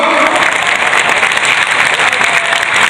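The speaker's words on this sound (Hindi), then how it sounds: "जोरदार तालियां बजाकर इनका स्वागत कीजिए साथियों" Loud, dense applause from a large crowd at a political rally in Bihar, steady clapping filling the whole stretch without a break and no talk on top.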